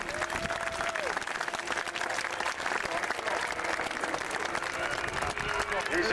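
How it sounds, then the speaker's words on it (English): A large outdoor crowd claps and cheers continuously for a Roman cavalry auxilia parade with horses at a historical re-enactment event. The applause is dense and steady throughout, with an announcer's voice and music heard over it. "give them a big cheer, please."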